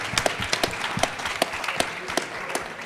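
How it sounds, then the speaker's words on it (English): Scattered, fairly faint clapping from an audience at a Michigan House 2018 future-of-mobility panel, with individual claps standing out in an irregular patter rather than a full ovation. "Can we first start with giving a big round of applause for Joe and Ted and their team"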